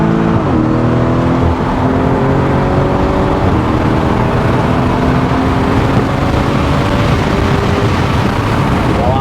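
A 650-horsepower car accelerates hard, its engine loud and close with repeated rising revs through gear changes under a constant roar.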